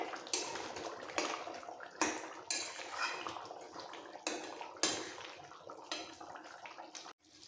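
A spatula stirs chicken cooked in poppy seed paste and oil in a pan, giving rhythmic, repeated scraping and sloshing strokes, about half a dozen, close and fairly quiet, with no talking.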